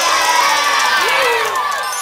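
Children cheer and shout excitedly for a magician, and their loud, dense crowd voices rise and swell in a short burst.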